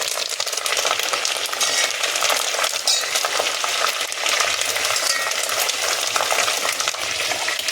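Curry leaves crackle and sizzle in hot oil while a spoon stirs the pan during the making of a Chicken 65 gravy, a loud, continuous frying hiss with sharp pops, no talking.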